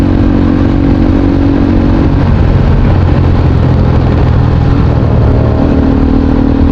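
A Kawasaki RS 200 motorcycle engine with a loud open exhaust runs close by in a steady, rough, continuous roar, with no talking over it.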